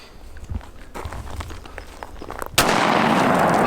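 A Dickinson Arms XX3D shotgun fires birdshot at a can from about six feet away, a single sharp loud blast that cuts in abruptly and leaves a dense, sustained roar after the report.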